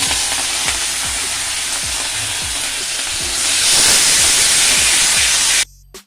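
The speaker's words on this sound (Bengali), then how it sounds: "সেই চালে একটু লবণ মাখিয়ে এই তেলের মধ্যে ভাজবো" Salted white rice frying in oil in a wok, a steady close hiss with repeated scraping strokes, swelling louder midway before cutting off abruptly near the end.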